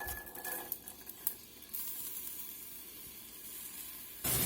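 Chopped onion going into a pot of hot olive oil and bacon fat for broccoli cheddar soup, a soft, steady sizzle with a few brief clatters, ending in a louder hiss burst.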